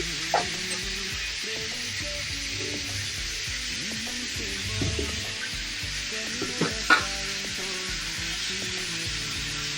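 Country chicken with turmeric and salt being stirred in a pan, a low steady sizzle with soft scraping and a few light clinks of the utensil, fairly quiet and close.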